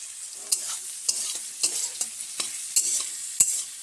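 Onions fry in a pan with regular stirring strokes, a steady close sizzle punctuated by sharp scraping clicks of the spatula roughly every half second, with no talking.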